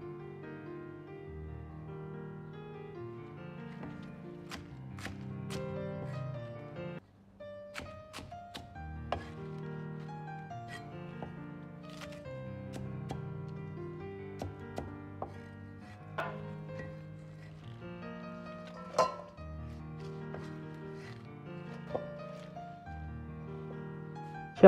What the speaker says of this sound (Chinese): 改刀切成稍微细点的丝